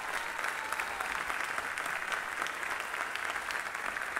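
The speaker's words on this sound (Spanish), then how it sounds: "recibimos con un fuerte aplauso a la orquesta integrada por 50 jóvenes del CEMU y de los Niñitos" Steady applause from an audience welcoming a 50-member youth orchestra at a Holy Thursday concert, continuous dense clapping filling the whole stretch with no voices on top.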